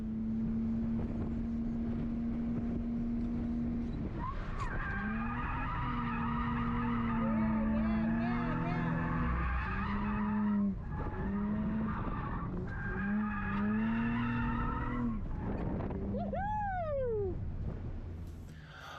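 A car drifts through a long slide as the driver works the e-brake, clutch and throttle, its tires squealing loudly in sustained, wavering tones that rise sharply near the end, with steady engine roar underneath and no talking.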